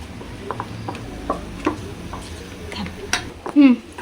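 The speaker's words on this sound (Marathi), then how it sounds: "एकसारखं परत आधी हलवायचं चांगलं." Scraping and clinking of a spoon stirring thick chicken masala paste in a pan, irregular strokes with a few louder knocks, faint background murmur.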